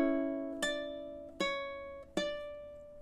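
Ukulele plays a measure of a song, three plucked chord hits spaced about evenly, each ringing and decaying, quiet and close with no talking.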